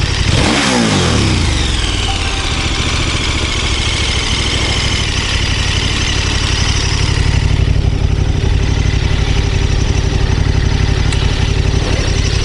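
A KTM 1290 Super Adventure S motorcycle engine, with a large exhaust, runs loudly and close up, a quick rev at the start settling into a steady, throbbing idle that holds without voices.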